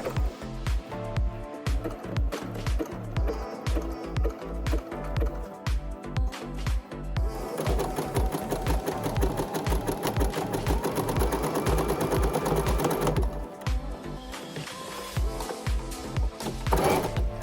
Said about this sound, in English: Sew with a zigzag stitch, and as you sew, pull the elastic slightly.